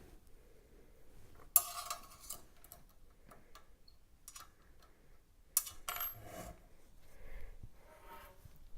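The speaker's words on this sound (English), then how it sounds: "And then I'm going to fasten it with a wrench." A wrench fastens bolts on aluminum rover body parts, producing a few sharp metallic clinks and ticks separated by quiet pauses, close and isolated.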